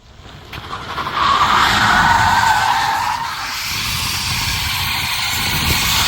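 Tires on a Tesla Model Y skid and squeal in drift mode with rear-wheel drive engaged, a sustained rising screech with engine and road roar that holds steady for several seconds, no talk over it.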